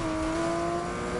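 A Porsche GT3 drifts in a racing video game, its engine holding a steady high tonal drone with a faint tire squeal running underneath, loud and continuous through the short stretch, with no talking.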